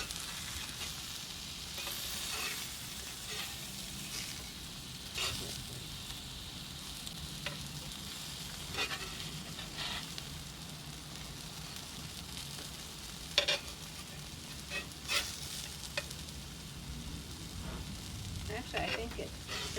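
Halibut sizzling in a hot pan inside an Ooni Koda 16 oven, a continuous soft sizzle and hiss with occasional clinks and scrapes, close by, with quiet voices at moments.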